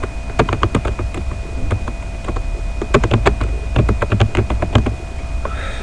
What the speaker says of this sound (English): So we'll type in survival range here.